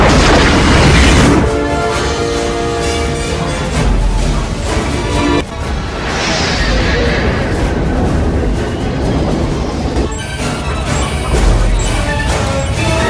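A submarine torpedo launch and explosion: a deep, sustained rumbling boom with crashing, debris-like noise stays loud for about thirteen seconds, surging again near the start and end.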